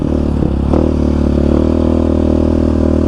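A Yamaha Raptor 700 ATV runs through desert washes and washed-out trails in Arizona, its single engine droning loud and steady up close with a brief clatter and scrape early on.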